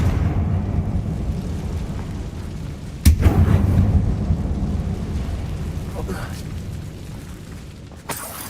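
A Confringo spell explosion in Hogwarts Legacy sets off a sudden deep boom inside a closed mine, followed by a rumbling decay and a fainter second blast near the end, over a low background drone.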